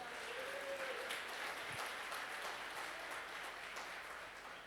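A church congregation applauding during a mission service, even sustained clapping heard at a moderate distance with a faint low hum beneath, holding steady and easing slightly toward the end.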